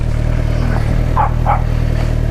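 A dog barks twice in quick succession on a street in the San Fernando Valley, heard from a GSX-R600 motorcycle amid steady engine drone and wind noise.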